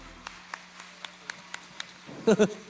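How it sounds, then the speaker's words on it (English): Rodeo arena crowd at a playoff night, sparse evenly spaced single claps at first, then a short louder burst of clapping mixed with voices near the end. "Everybody clap your hands."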